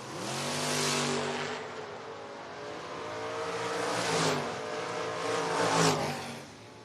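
Drag race at a footbrake event between a 1970 Mustang and a 1992 Mustang, engines roaring and revving down the strip with rising and falling passes, heard from a distance with a crowd-wide wash of noise.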